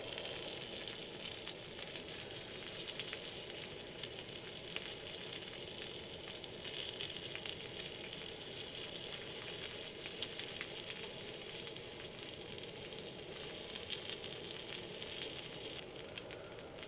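Sausages sizzling in a pan on a small wood-burning stove inside an inflatable hot tent, a steady, dense crackle and hiss that runs evenly throughout, close and moderately loud, with no talking.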